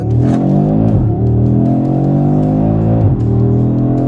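An Audi RS3 engine pulls hard, a loud, close roar that climbs in pitch, then drops briefly at quick gear changes before climbing again.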